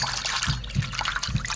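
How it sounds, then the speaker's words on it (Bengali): Water pours into a bowl holding a little salt and turmeric for soaking sliced bitter gourd, a short trickling splash with gentle low thuds, close and alone. "এইভাবে জলটা একটু দিয়ে নেবো।"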